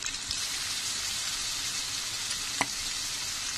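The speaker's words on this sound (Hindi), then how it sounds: "थोड़ा सा फ्राई कर लेंगे कांदा लाल होने तक" Chopped onion sizzles steadily in a hot pan while a kheema, cabbage and peas bhaji is cooked, a constant close frying hiss with one brief louder pop near the end and no talking.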